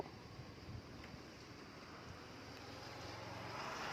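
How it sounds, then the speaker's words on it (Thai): Steady broadband wind roars outdoors ahead of an approaching thunderstorm, a constant rushing hiss that slowly builds in strength, with no voices. "โอ้ลมมาแล้วค่ะ ลมมาแล้วค่ะ"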